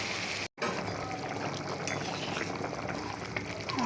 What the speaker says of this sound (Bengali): এবার আমি পরিমাণ মতো জল দিয়ে সিদ্ধ করে নেব।